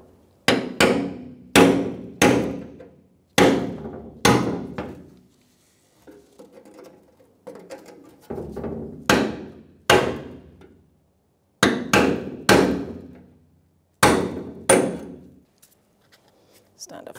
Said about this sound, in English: So I like to use a brass punch and a hammer.